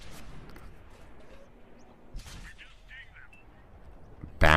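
Tank shells ring off E-100 armor in World of Tanks, a few sharp metallic impacts and pops scattered over quiet engine rumble, with a loud close blast at the very end.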